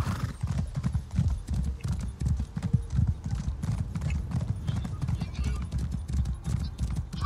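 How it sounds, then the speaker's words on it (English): Horse hooves clip-clop steadily in Elder Scrolls Online, a continuous rhythmic trot at close range with an occasional whinny, while someone talks over the hoofbeats. "think we should get on our horse"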